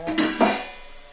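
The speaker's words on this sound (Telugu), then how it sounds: "ఇప్పుడు దీనిలో మనం ఈ బీరకాయ ముక్కలు వేసేద్దాం" Ridge gourd pieces tumble into a pan of partly cooked chana dal, giving two quick clattering knocks of vegetable and utensil against the pan, close and moderately loud, then fading.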